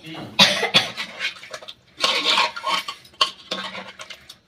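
A metal spoon scrapes and clinks against a pan while mutton kosha is stirred after a sprinkle of shahi garam masala. Several loud bursts of scraping come in an uneven rhythm, close up, with short quiet gaps and no talking.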